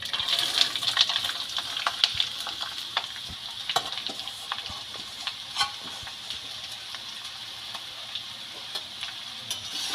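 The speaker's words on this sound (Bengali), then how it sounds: "এবার আমি গাজর, বিট আর আলু কুচানোটা এই তেলের ওপর দিয়ে দিচ্ছি।" Chopped carrot, beetroot and potato hit hot oil with ground cumin paste and fry with a bright, continuous hiss, punctuated by scattered crackles and light stirring clicks, close and fairly loud.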